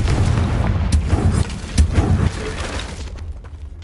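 A Confringo spell blast explodes in the video game Hogwarts Legacy with a deep, rumbling boom and crackling debris that peaks midway, then fades out.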